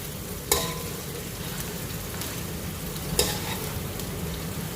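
Onions sizzling and frying in hot oil for chicken nihari, a steady dense crackle with a couple of sharper spatters, nearby and moderately loud with no talking.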